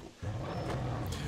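A lion in the video game Dragon's Dogma lets out a loud, sustained roar with a low rumbling growl after a brief quiet start, holding steady through to the end.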